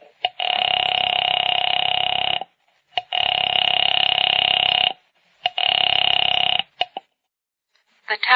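Radio-drama telephone effect: a phone is dialed, then a ringing tone sounds in three long bursts separated by short clicks, loud and close with no talk over it.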